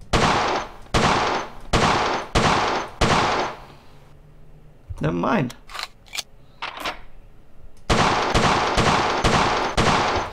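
Colt 1911 pistol fired at a World of Guns shooting range: five loud, evenly spaced shots, a pause with a brief spoken remark, then another rapid run of five shots.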